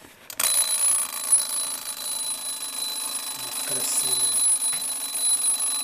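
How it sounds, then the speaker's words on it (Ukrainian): A steady high-pitched alarm from a Soviet-made Sevani mechanical alarm clock rings continuously after a brief start, with faint room noise and a short spoken word partway through. "Все, що тут працює, це будильник."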